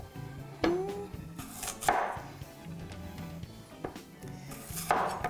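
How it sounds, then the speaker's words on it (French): A knife cuts potato quarters on a board in a home kitchen, a few sharp chopping knocks spaced about a second apart with light clinks of dishes, close by and moderately quiet, no voices. "OK, donc là, je coupe mes quartiers."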